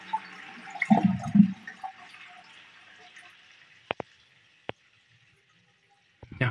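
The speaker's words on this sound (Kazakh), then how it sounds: "Енді суды ағызамыз" A toilet cistern flushes, with a short gurgling rush of water draining into the bowl that fades into a quiet trickle, followed by a few sharp isolated drips or clicks in a near-silent bathroom.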